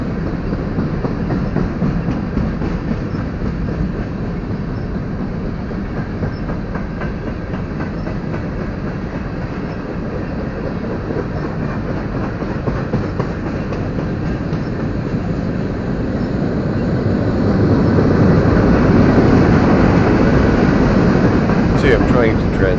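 A BNSF freight train hauling three-level auto rack cars rolls past close by, a steady continuous rumble with rhythmic clickety-clack of wheels over rail joints, growing louder toward the end.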